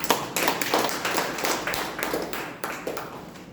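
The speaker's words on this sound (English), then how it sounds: "Let us give her an applause." Audience at a Toastmasters club meeting clapping steadily for a speaker, a dense run of close, crisp handclaps sustained at moderate volume throughout with no talking.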